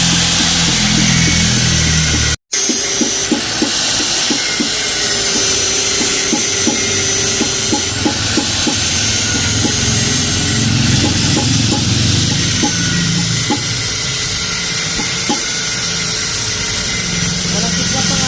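A grinder cuts into a Honda Click 160 motorcycle mag wheel being converted for a Click 125, making a loud, steady, harsh whine that continues alone after a brief break near the start.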